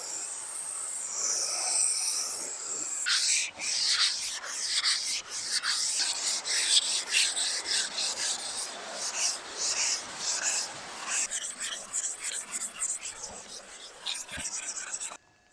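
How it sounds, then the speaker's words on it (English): Wet sanding the body panel of a classic JDM Toyota TA22 Celica: a steady wet rasp of abrasive paper rubbing back and forth across the surface, close and continuous in uneven strokes with brief pauses. "It's ideal conditions for wet sanding."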